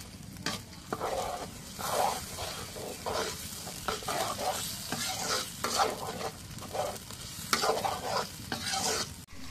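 A ginger, garlic, cumin and onion spice paste sizzles in a pan for chicken khichuri, with repeated scraping strokes of a stirring spoon in an irregular rhythm over a steady fry, close and moderately quiet.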